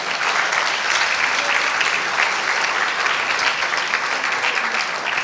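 A community hall audience at a Muslim Welfare Centre event bursts into dense, sustained applause that stays loud and even from start to finish, with no voices standing out.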